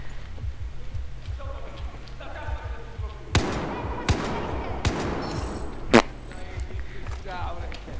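Gunfire in the single-player campaign of Battlefield 4: a few sharp, spaced shots ring out over a busy background of game noise and quick footsteps, with someone talking over parts of it.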